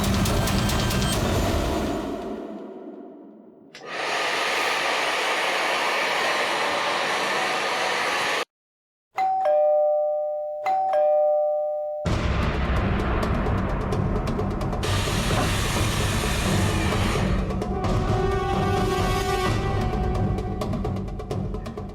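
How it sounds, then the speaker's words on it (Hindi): A two-tone doorbell chime rings out briefly amid loud, rushing air conditioner and hair dryer noise that cuts in and out. "एसी और हेयर ड्रायर की आवाज के ऊपर भी बेल की आवाज साफ सुनाई दे रही है"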